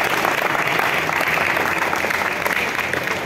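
Applause for the women at a ceremony: a crowd clapping loudly and continuously, a dense, even roar of hands that holds steady for a few seconds, with no speech over it.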